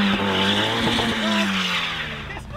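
A car drifting on ice, its engine droning loudly and steadily as the tyres slide and squeal across the frozen surface, close and continuous with no voices.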